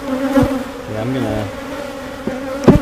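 Honeybees buzz around hive frames as deep supers are removed. The buzzing is loud, close and wavering, with individual bees droning past in changing pitches.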